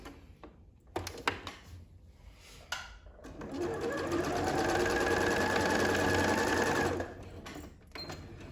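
A sewing machine fitted with a twin needle stitches a test hem, a few close clicks and thumps before a steady, rapid mechanical whir runs for about four seconds and stops.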